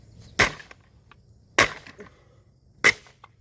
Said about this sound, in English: Kind of missed this, smashing things.